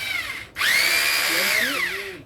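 A power drill whirs up after a brief pause, holds a high steady whine for over a second, then winds down, with faint talk underneath.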